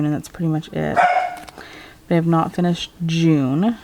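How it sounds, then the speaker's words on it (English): A dog barks in short bursts close by, several sharp barks in a row and a whining yelp at the end, mixed in with someone talking. "sorry if you hear the dog in the background"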